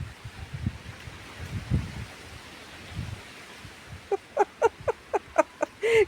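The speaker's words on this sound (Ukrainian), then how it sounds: "Бач, який вітер на дворі, га?" Wind blowing outdoors in blustery weather, heard as low, uneven rumbling gusts buffeting the microphone, followed by a quick run of short, sharp voiced sounds.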